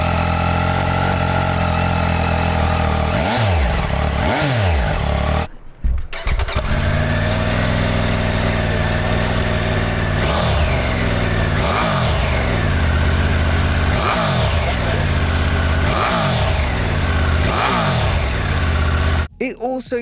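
A 2022 Triumph Tiger 1200 with a T-plane crank idles with a deep, loud rumble, then revs repeatedly in sharp blips that rise and fall, close up, with a couple of brief cuts.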